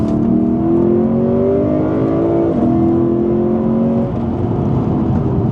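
A Lexus GS F engine revs up steadily, its pitch rising through the gears with a brief dip at a shift, loud and close, heard from inside.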